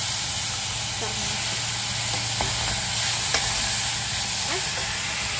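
Tomato sautés in a pan, a steady close sizzle and hiss with occasional light utensil clinks and no clear voices.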